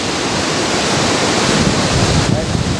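Strong storm wind roars steadily through woods near a creek during a Missouri outing, a loud, continuous broadband rush buffeting the microphone, with a gust-like surge toward the end.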